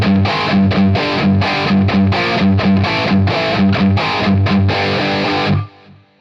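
A heavily distorted electric guitar churns out a loud, chugging riff from the outro of a song in tight rhythmic bursts, then cuts off abruptly near the end.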